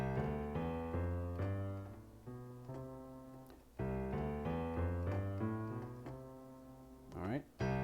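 A piano plays a major scale with the left hand, one clear note at a time in a steady ascending and descending run, close and alone, with a brief rustle near the end.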